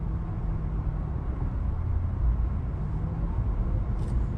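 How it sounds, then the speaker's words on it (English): Steady low hum and rumble from a Porsche Taycan's electric drivetrain and front motor while driving, a continuous moderate drone with road noise and no voices. "You can hear the drivetrain here much more than you can in my car."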